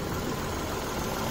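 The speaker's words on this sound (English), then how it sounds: "As you can clearly hear, this is not the most smoothest or noiseless engine" Idling Nissan Magnite 72PS three-cylinder petrol engine, a loud, steady, close rumble with a slightly rough, unrefined drone throughout.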